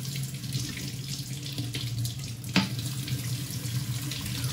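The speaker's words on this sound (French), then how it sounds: "si on chauffe à nouveau cette bouteille, par exemple en versant de l'eau chaude dessus" Hot water steadily pouring and splashing over a bottle in a classroom-style science experiment, a continuous running-water rush with one small knock midway, no talking.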